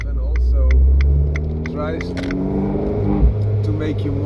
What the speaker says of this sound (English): Now I push the sport button, so it sounds a bit more aggressive